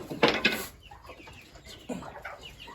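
A hen clucks in a farm coop: a couple of loud, close clucks at the start, then softer, scattered clucking and chatter from other chickens nearby, with no talking.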